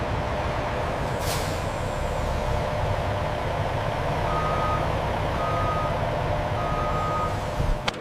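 A delivery truck pulls into the loading bay of a large coffee roasting plant, with a steady engine rumble, a brief air-brake hiss and repeated reversing beeps, fairly near and alone.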